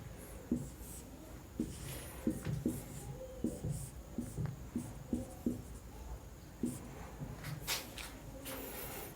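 Marker or chalk strokes on a board as chemical names are written out, a series of soft scratchy taps and swipes in uneven bursts, fairly quiet and close.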